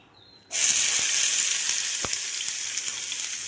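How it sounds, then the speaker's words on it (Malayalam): Chopped onion, green chili and tomato drop into hot coconut oil, setting off a sudden loud hissing sizzle that holds steady close by, with a faint clink of stirring and no talk. "വെളിച്ചെണ്ണ ചൂടായി കഴിയുമ്പോൾ നമ്മൾ അരിഞ്ഞ് വെച്ചിട്ടുള്ള സവാളയും പച്ചമുളകും തക്കാളിയും കൂടി ഇതിലേക്ക് ഒന്ന് ഇട്ടിട്ട് ഒന്ന് വഴറ്റി കൊടുക്കണം"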